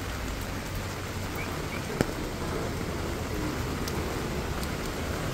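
Heavy rain pours down on a street in Zhangmutou, Dongguan. It makes a dense, unbroken hiss of falling water that stays loud and even throughout, with a few faint ticks and no talking.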